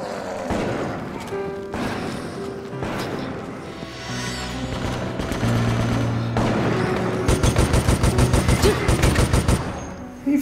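Gunfire from Resident Evil: Operation Raccoon City, with scattered shots and then a fast, steady machine-gun burst near the end, set against game music and effects, with a voice shouting nearby.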